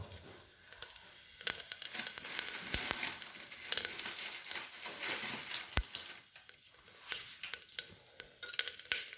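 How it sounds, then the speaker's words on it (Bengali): Whole cumin seeds and bay leaves crackle and sizzle in hot oil, a steady close frying hiss broken by sharp pops and occasional stirring scrapes, with no voices. "এবারে এই তেলের মধ্যে একটু গোটা জিরে ফোড়ন দেবো, গোটা জিরে আর তেজপাতা দেবো।"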